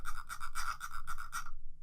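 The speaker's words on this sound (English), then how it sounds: "it has 2 different settings. It has a clicky one, which sounds like this" A computer mouse scroll wheel set to clicky mode gives a fast run of faint, fine ticks for about a second and a half, then stops.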